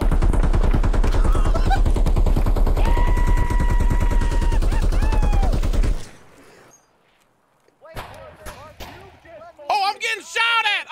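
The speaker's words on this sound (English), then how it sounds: "Oh, I'm getting shot at!" Rapid automatic gunfire in Escape From Tarkov cracks out in a dense, loud burst for several seconds, then drops away before scattered shots and other sharp sounds return near the end.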